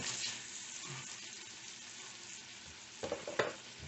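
Meat for mini steak and cheese sandwiches frying in a pan, a soft steady sizzle with a few brief louder crackles and scraping stirs toward the end.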